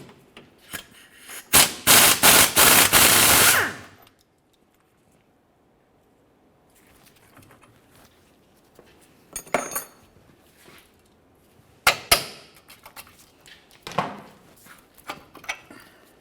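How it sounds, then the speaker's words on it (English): Bursts of metallic ratcheting from a wrench working the nut and bolt off the lower shock mount of a 2001-2005 Ford Explorer Sport Trac, one loud rapid run followed by several shorter clicks and knocks. "Use an 18mm to remove the nut, and then of course drive the bolt right on out of here"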